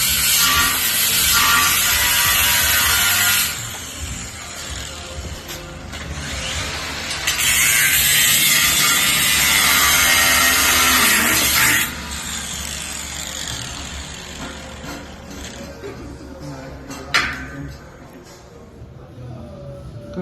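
A power tool cuts a steel plate in two long, loud, harsh grinding passes up close, with quieter handling noise and a sharp clunk between and after the cuts.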